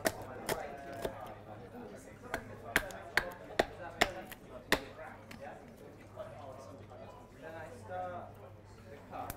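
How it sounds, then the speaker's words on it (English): An adze chops relief cuts into wood at a spoon-carving demonstration, giving a series of sharp, close knocks in an irregular rhythm that fade into softer shaving near the end, with someone talking throughout. "If I make these relief cuts, then I don't have to worry about the grain running in too much."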